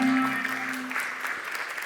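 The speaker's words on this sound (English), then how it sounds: "a round of applause for him." Audience applause after a talk, moderate clapping in a hall that begins under a fading spoken voice and then carries on steadily on its own.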